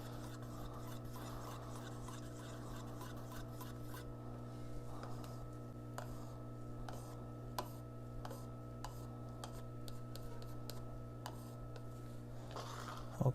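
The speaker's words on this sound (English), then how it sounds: "I'm going to give this just a little bit of a mix because it's settled just a little bit." Part A of Rubio Monocoat oil wood finish being stirred in its container: quiet, steady scraping and rubbing with scattered light ticks and taps, over a low hum with no voices.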